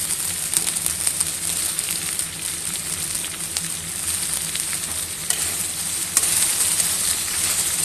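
Taro stems sizzle and crackle in hot oil with crushed ginger and garlic, a steady close frying hiss with occasional pops and stirring scrapes, no talking.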